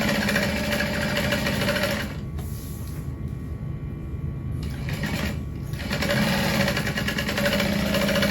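A sewing machine stitching across the top edge of a small backpack, a steady close mechanical whirr that slows and softens midway, then speeds back up to full running.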